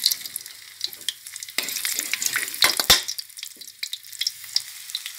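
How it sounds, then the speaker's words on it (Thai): Garlic fries in a spoonful of oil in a pan, giving a close, crackling sizzle with sharp pops and stirring scrapes that rise and fall unevenly. "น้ำมันลงไป1ช้อนแกงนะคะ กระเทียม1หัวใส่ลงไปเลย"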